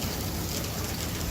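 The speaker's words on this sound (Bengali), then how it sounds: "ini hujan di mobil ini doang ini lihat nih, yang lain kagak nih" Steady rain falling on a car, a dense, even hiss of drops spattering on the body with no pauses, loud and close throughout.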